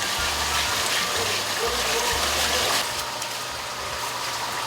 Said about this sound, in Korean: 물좀 빼야 돼.